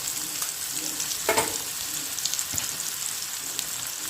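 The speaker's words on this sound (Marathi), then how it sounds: "आता आपण कांदा एक पाच मिनिट भाजून घेऊया" Chopped onion and turmeric fry in hot oil with a steady, close sizzle and crackle, with occasional stirring scrapes and pops.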